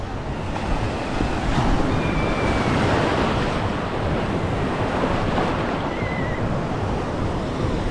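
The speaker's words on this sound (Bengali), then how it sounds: "এই ঢেউটা দেখো।" Waves on Puri beach surge and break in a loud, unbroken wash of surf, with strong wind rumbling across the microphone the whole time.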